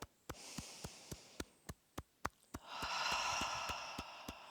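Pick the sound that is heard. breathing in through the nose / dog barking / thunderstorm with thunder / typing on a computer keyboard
breathing in through the nose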